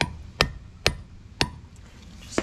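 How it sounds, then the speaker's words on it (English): A hammer taps a 36 mm socket to drive out a front brake hub seal on a Nissan Pathfinder, four sharp metallic strikes at a steady pace, close and loud with no talking. "Take a hammer, give it a tap."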